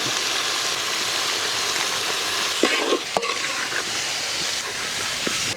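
Freshly ground masala sizzles with country chicken in a pan for a Chettinad chukka, a dense, continuous close frying hiss with a few stirring knocks partway through; no one speaks.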